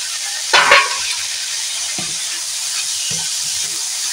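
Red amaranth greens, rinsed and shaken of water, sizzle and hiss in a pan while being stirred; a loud burst of sizzling and scraping comes near the start, then short stirring clatters recur over a steady frying hiss.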